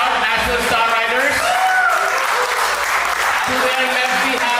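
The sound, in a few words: audience applause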